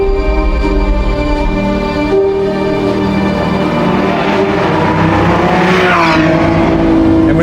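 Lamborghini Revuelto V12 hybrid supercar with a 180-degree-turned engine and 8-speed DCT, revving loudly and continuously up close with rising and falling engine pitch throughout.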